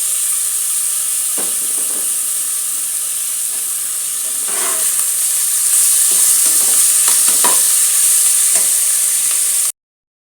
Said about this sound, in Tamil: இப்போ நம்ம இந்த தக்காளியை சேர்த்து நல்லா வதக்கிடலாம்.